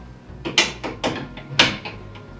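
A spanner tightening bed frame mounts in a VW Crafter/Sprinter van, several close metallic ratcheting clicks and scrapes in uneven strokes, each burst short and fairly loud, with no talk.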